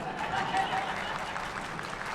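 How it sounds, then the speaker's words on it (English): Audience applause fills a conference hall at an AIPAC event, a brief, steady wash of clapping from a crowd at moderate distance, with a voice over it. "Now you can applaud."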